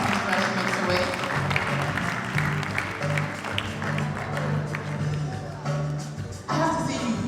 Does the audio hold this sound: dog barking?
no